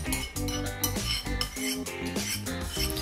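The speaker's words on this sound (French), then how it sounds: "je vais mélanger l'huile de coco et tout ça" A spoon stirs a coconut oil and cornstarch mixture in a bowl, with quick clinking scrapes against the bowl's side in a close, continuous rhythm over background music.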